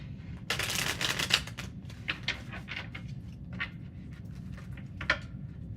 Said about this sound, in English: 2 more shuffles for Scorpio.